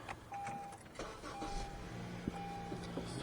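An Acura ILX engine cranks and catches after a spark plug replacement, a faint whirr of the starter giving way to a quiet, steady running note with no voices.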